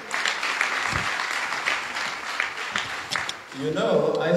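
Sustained crowd applause at a graduation ceremony in the Gambia, a dense wash of many hands clapping, tapering off as a voice begins speaking near the end.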